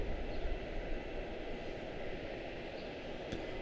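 Airliner taxiing at Charlotte-Douglas airport, a steady, muffled broadband engine rumble from some distance, constant throughout with no talk.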